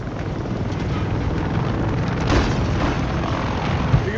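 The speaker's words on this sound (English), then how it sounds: "More helos inbound." Military helicopters fly in during a video game firefight, a steady broadband rotor and engine roar with rushing wind-like noise that swells slightly midway and holds, loud and close, with no talk.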